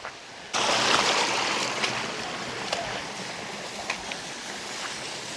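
Spring water gushing under strong pressure at Hugasan Falls in Tagaytay, a steady, close, broadband rush that starts abruptly and continues with small splashy bursts.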